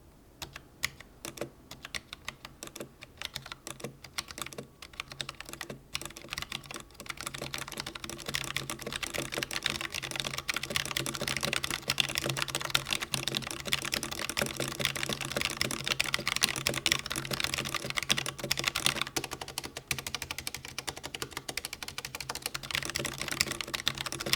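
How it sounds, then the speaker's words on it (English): Continuous rapid clacking of a Creative Sound BlasterX Vanguard K08 mechanical keyboard with Omron switches being typed on, close and steady, with no talking. "Here's a typing test to give you an idea of what they sound like."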